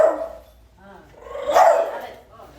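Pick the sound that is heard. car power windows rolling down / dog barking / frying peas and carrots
dog barking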